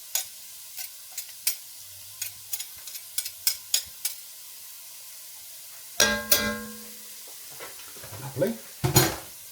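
Crushed garlic stirred in a hot pan for creamy ham and cabbage soup: sharp scraping strokes and light sizzle in irregular bursts, close up, with a brief spoken word near the end.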